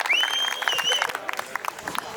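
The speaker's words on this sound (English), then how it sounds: "So a big round of applause for Andy and Shirley." Applause and a whistle from the audience at a youth rugby club presentation evening for a newly married couple, clapping tapering off into scattered claps, with voices among the crowd.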